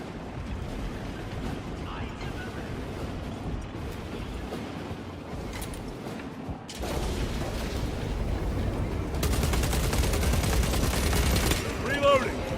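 Gunfire fills a battle in the video game Warhammer 40,000 Space Marine 2, dense bursts of automatic fire and heavy booms rolling continuously and growing louder toward the end, with voices heard over the din.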